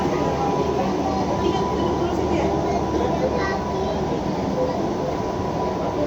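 A KRL Jakarta commuter electric train, one of the retiring Tokyu 8500, JR 203 or TM 7000 series, gives off a constant, even cabin hum and rumble on its final run, with muffled voices underneath.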